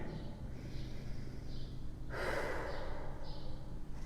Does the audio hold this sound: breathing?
yes